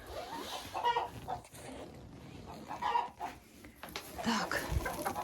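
Several hens cluck in a warm chicken coop in winter, their busy, overlapping calls moderately close against a rustling background.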